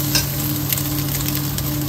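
Garlic and egg stir-fried in a pan for Filipino garlic fried rice (sinangag): a steady, close, loud sizzle throughout with faint scraping from stirring, no talk.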